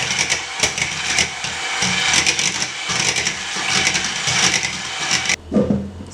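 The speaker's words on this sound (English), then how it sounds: "I just want to give it a good whisk." Red velvet cake batter gets a vigorous whisking in a bowl, a loud, close, continuous rattling scrape that stops abruptly near the end, with no talking over it.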